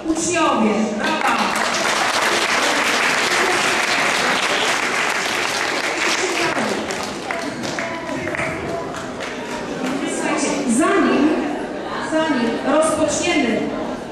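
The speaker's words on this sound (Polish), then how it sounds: "Brawa." A school assembly audience of pupils and staff at an Easter event applauds loudly, a dense sustained wash of many hands clapping that swells and eases over about fourteen seconds, with some crowd voices mixed in.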